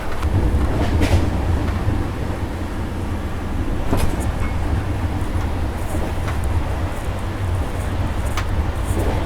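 Inside the Rajdhani Express, a steady low rumble and rattle is heard as the train runs at about 120 km/h through Faridabad, with occasional clicks and knocks over a constant, loud drone.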